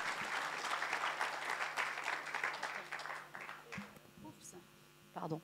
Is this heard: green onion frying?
no